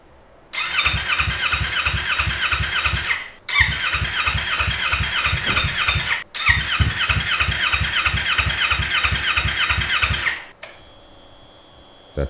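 A Yamaha R3 motorcycle engine, freshly filled with new oil and coolant, cranks in three long bursts of rapid, even pulsing, with short gaps between them. It then stops, leaving a quiet hum.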